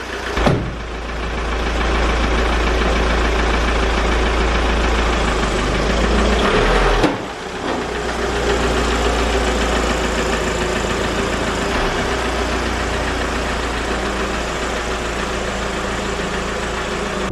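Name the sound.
Audi A3 petrol engine idling after new turbo fitted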